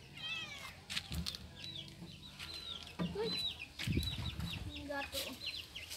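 A cat meows a few times, fairly faint, amid quiet background noise with occasional bird-like chirps.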